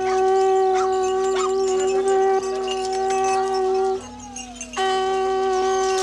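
Domestic hunting dogs howl in long, sustained, overlapping wails outdoors, loud and close. Someone narrates briefly over them, and the howling dips for a moment before swelling again.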